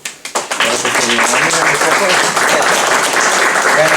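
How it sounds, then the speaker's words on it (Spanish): An audience at a scientific talk breaks into applause: a few separate claps at first, then quickly swelling into loud, sustained clapping from many hands that holds to the end. "Yo creo que le damos un aplauso."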